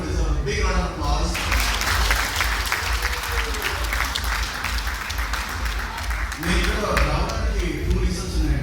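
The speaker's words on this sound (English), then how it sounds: "I think all of you deserve a big round of applause" A convention crowd at a Telugu American association event breaks into loud, sustained applause, dense clapping filling the space for several seconds, with some voices and tonal sound mixed in.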